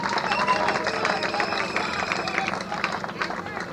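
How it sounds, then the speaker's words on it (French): A crowd applauds at a political gathering in a dense, steady wash of clapping mixed with voices and general hubbub. The noise is continuous and moderately loud throughout, without a clear start or end. "Applaudissez pour la DCI."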